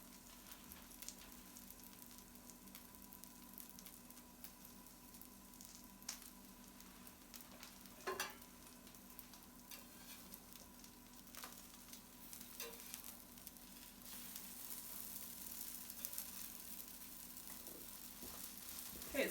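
Corn cakes frying in a pan give a quiet, steady sizzle with faint crackles and pops, growing a little louder toward the end.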